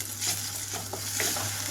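Ginger garlic paste frying with onions in a pan for beerakaya masala curry, giving a steady close sizzle with soft stirring scrapes and a low hum underneath, no voices.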